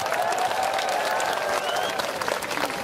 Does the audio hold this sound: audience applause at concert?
yes